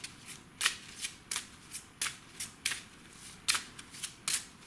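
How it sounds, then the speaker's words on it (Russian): A deck of playing cards being shuffled repeatedly during a fortune-telling card reading, with crisp riffling bursts recurring in a steady rhythm, close and clear, with no talking. "Давайте еще раз хорошенечко мы подтасуем карты."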